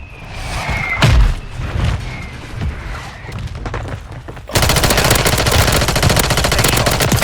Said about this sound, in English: Oh, she almost shot at me.